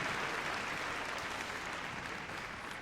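An arena audience at Crufts applauds a freestyle heelwork-to-music dog routine, heard as sustained, even clapping at a moderate distance throughout.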